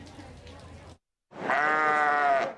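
At the Minnesota State Fair sheep and poultry barn, a sheep lets out one loud, drawn-out nasal bleat lasting about a second, close by, after a short stretch of softer barn noise and a brief silent gap.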